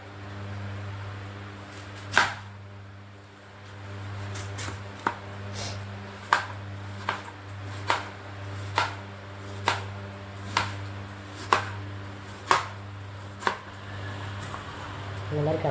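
Knife chopping onions on a cutting board for onion pakoda, a steady series of about a dozen crisp, evenly spaced chops close by over a low constant hum from a fan or appliance.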